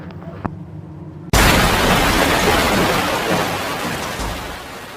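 Heavy rain pours down on a dark night in a Bengali cartoon, starting with a sudden loud burst after a quiet moment and then holding as a dense, steady wash that eases slightly near the end.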